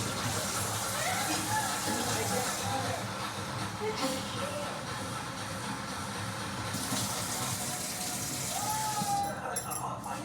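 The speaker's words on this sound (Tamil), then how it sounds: "இப்போ கூட தண்ணி பத்தலை இன்னும் தண்ணி ஊற்றணும்." Water is poured over a coconut in a container, a soft, continuous trickling and splashing that goes on under quiet talk.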